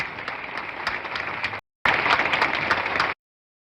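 Graduation audience applause, dense many-handed clapping that cuts out briefly, resumes louder with distinct sharp claps, then stops abruptly into silence.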